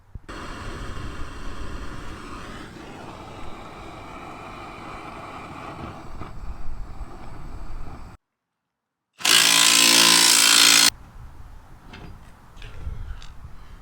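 Power tool loosening a stubborn control-arm bolt on a Ford Focus, a steady whirring drone for several seconds, then a sudden brief loud hissing burst after a pause, followed by quieter rattles.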